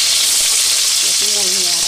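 Curry leaves frying in hot oil for a spicy matki bhel, giving a loud, steady hissing sizzle that runs the whole time, with a brief tonal hum near the end.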